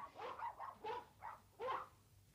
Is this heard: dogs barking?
yes